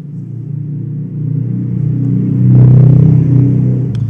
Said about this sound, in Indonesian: kalau kalian dengar suara motor, maaf ya karena studioku ini ada di samping jalan raya